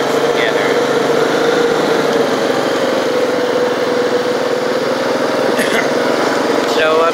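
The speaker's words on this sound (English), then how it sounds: "taking my daughter out for a ride on the four-wheeler" ATV four-wheeler engine running steadily and loud throughout, a continuous droning motor close by with a couple of brief higher squeaks near the end, out on a father-and-daughter ride.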